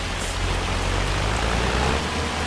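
Hail falls during a storm in Farming Simulator 25, a dense, steady hiss of countless pellets striking surfaces, loud and continuous without any voices.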